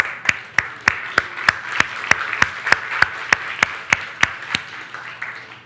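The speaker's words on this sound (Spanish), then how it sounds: "Es más, denle un aplauso a Gabriela." A church congregation at a Spanish-language worship service claps in unison, with sharp, evenly spaced beats about three per second over softer scattered applause, fading slightly at the end.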